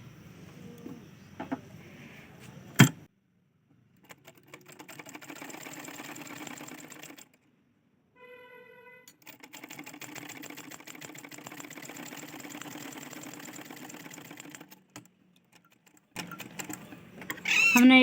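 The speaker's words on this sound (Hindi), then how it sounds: "हमने एक बार सिलाई लगा दी है" A sewing machine stitches a blouse strip in bursts of steady mechanical whirring, with pauses between runs and a short tonal beep in one gap.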